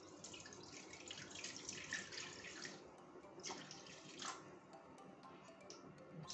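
Water pours into a bowl for bread dough at a home kitchen counter, a soft, fairly faint splashing trickle in uneven bursts with small drips and clinks, no talking.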